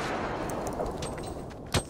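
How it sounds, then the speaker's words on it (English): Bombs exploding in the Fortnite video game make a dense, continuous roar of blasts, with one sharper, louder burst near the end. "There's explosions everywhere."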